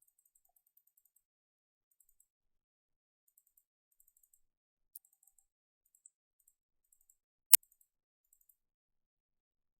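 Faint, sparse computer mouse clicks on a quiet desk, with one sharp, close click standing out among the soft scattered taps.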